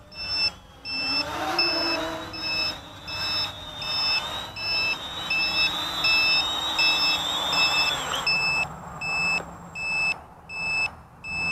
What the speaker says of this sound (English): Okay, low voltage alarm's on again. If she stays on, I'm bringing her in. Okay, the remote's beeping at me too.